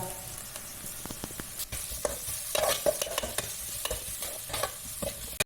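Onions frying in a pan with a steady close sizzle, constantly stirred with a utensil that gives frequent scraping strokes and small clicks against the pan.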